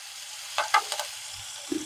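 Green chillies and onion frying in a pan, a quiet sizzle with a few quick scraping stirs in a brief burst.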